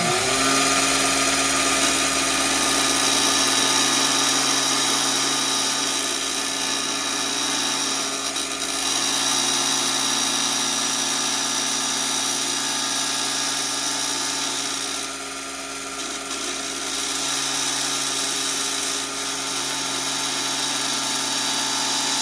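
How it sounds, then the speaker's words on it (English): A bench grinder on a grinder/sander combo machine runs its grinding side with a steady, even motor hum and whine that holds without a break for over twenty seconds. "We're gonna see how the grinder side handles things."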